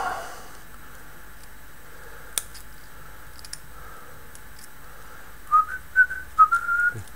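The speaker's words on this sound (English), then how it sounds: "Handy to whistle while you work." A person whistles a short, bright tune near the end after quiet moments with a few soft clicks and taps.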